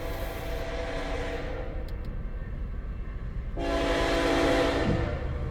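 A loud freight locomotive horn blasts in two sustained sounds, separated by a pause, over the low rumble of the passing locomotive, an MEI rebuild, at Ladysmith, Wisconsin.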